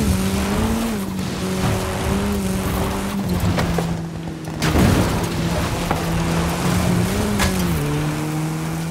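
In a racing video game, a Hoonigan RS200 rally car's engine drones loudly and steadily, its pitch shifting up and down with gear changes over engine and tire noise.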